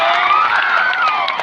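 An audience cheers for the boys: a dense, steady wall of crowd noise with shouts and whoops rising over it. It stays loud and continuous throughout, with no talking.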